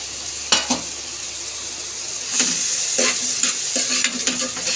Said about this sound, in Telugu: పచ్చిమిర్చి టమాటా వేసుకొని కలుపుకొని మూత పెట్టి ఇంకా ఉడకనిద్దాం